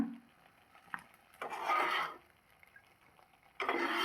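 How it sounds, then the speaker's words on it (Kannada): Fried okra scraped and scooped from a pan into a bowl, soft rasping and rubbing strokes of a utensil against the pan in two main bursts with light clinks between them, quiet and close, with no talk. "ಇವಾಗ ಬೆಂಡೆಕಾಯಿ ಫ್ರೈ ಆಗಿದೆ, ಇದನ್ನು ಒಂದು ಬೌಲ್ಗೆ ಎತ್ತಿಟ್ಕೊಳ್ಳೋಣ"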